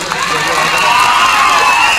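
A crowd at a comedy show claps and cheers loudly and continuously, a dense wash of applause and shouting voices that fills the whole moment.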